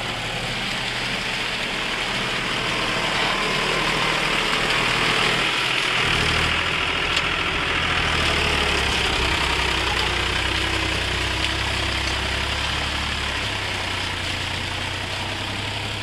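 A Powertrac 437 tractor engine idles steadily in a muddy field, a continuous low rumble with a slight knock that shifts pitch partway through, close and alone.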